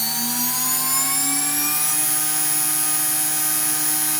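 A CNC router spindle spins at about 18,000 RPM with a 6mm bit, cutting a wooden wine glass holder; a steady high-pitched whine with gliding tones holds loud and continuous throughout, no voices.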